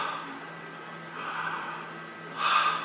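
Deep breathing during a trumpet lesson, slow airy inhales and exhales that swell and fade twice over a quiet room hum, close to the microphone and fairly soft.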